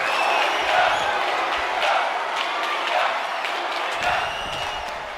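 Arena crowd cheering and roaring in WWE 2K25 SmackDown during a wrestling match, a steady loud wall of voices with swells of whoops and applause throughout.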